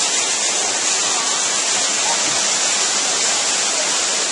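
Steady, loud rushing and splashing water from a turning water wheel fills the scene without a break, a dense roar close by with no voices.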